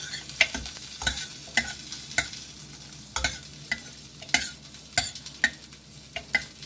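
A dal and amaranth greens curry is stirred in a pot, with a spoon scraping and knocking in a steady series of sharp, close strokes over a faint simmer, and no talking.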